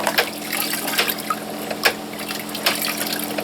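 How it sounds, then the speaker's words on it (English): Water runs steadily through a garden hose into a compost tea bag, a continuous close gurgling flow with small splashes and no talking. "you have water going through the hose into the bag"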